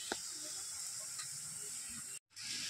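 Boiled chow mein with potato, onion and spices fries in a pan, giving a steady close hiss and sizzle that runs almost continuously with a brief dropout near the end.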